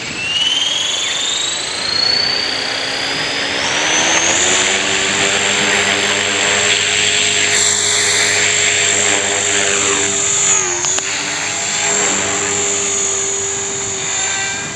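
A cheap Hobbyking RC helicopter in flight gives off a loud, continuous high-pitched rotor and motor whine that rises in pitch early on, then holds steady with slight wavering, heard alone and close.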